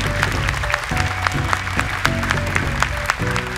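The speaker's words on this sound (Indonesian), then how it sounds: "Tepuk tangan untuk Zura." An audience at an Indonesian Quran memorization show claps steadily for a few seconds, dense and even, with a faint voice or music tone mixed in underneath.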